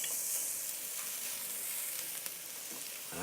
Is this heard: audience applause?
no